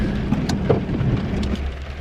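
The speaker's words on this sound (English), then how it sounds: "We're here, and it's raining." Rain falls in Wales in a steady, close patter of drops on a surface, mixed with a low rumbling hum, continuous and fairly loud with no voices.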